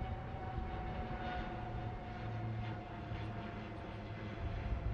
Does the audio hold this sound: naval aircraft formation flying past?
yes